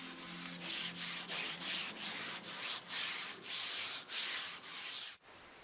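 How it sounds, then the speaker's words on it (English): Wood being hand-polished with Bodai sand in Kitayama, a traditional final finishing step: a steady rhythmic series of broad rubbing strokes, about a dozen sweeps back and forth, close and even, with no voices. "A traditional process in Kitayama is sand polishing."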